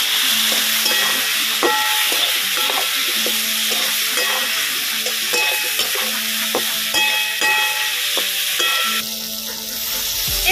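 Chilli powder, turmeric and cumin being stirred in a hot pan with fresh green chilli, a steady loud sizzle with repeated scraping strokes of a spoon against the metal.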